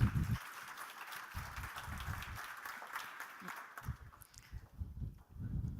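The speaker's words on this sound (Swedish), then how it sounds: "En applåd för Maria." An audience at a Swedish conference on welfare technology gives moderate, sustained applause after a project leader's talk, a steady patter heard from some distance with low thumps and shuffling underneath.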